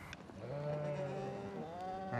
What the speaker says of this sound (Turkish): Suruç'a has koyun besliyorum.